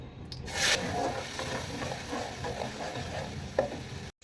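A thick paste fries in hot oil with a soft, steady sizzle while a spoon scrapes and stirs it around the pan nearby.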